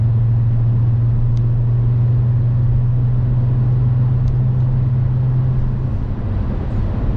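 A stock Volkswagen R32 engine and exhaust holds a steady, deep idle rumble throughout, close and continuous with no revving, a low even drone from start to finish.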